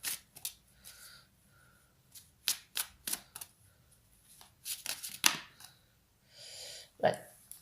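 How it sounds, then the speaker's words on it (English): Bursts of playing cards being shuffled and riffled, crisp flurries of flicking paper with short pauses between, close and fairly quiet. "One more shuffle."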